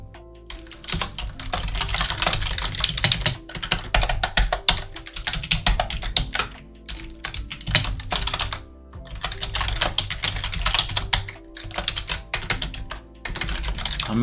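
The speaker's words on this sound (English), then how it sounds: "I'm tired of typing it all out" Continuous typing on a computer keyboard, close and steady, with rapid clustered keystrokes broken by a few short pauses and no talking.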